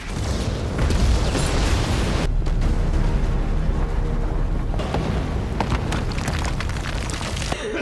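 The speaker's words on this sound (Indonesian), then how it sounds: "Ledakan yang terjadi barusan membuat semua orang terjebak dalam tambang" A loud, sustained rumbling explosion in a mine, with heavy low-end roar and debris-like crackling, dipping briefly and resurging, ending in a sharp burst.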